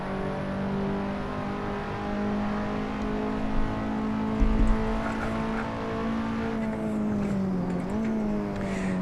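KTM X-Bow engine in Assetto Corsa at Silverstone, a steady loud drone that holds its pitch, then briefly dips and climbs again near the end with a hint of tire noise.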